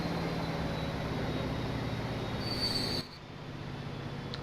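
Diesel train running in the Transport Fever video game, a constant rolling rumble with a thin high squeal riding on top, then a sudden drop to a quieter, duller hum partway through.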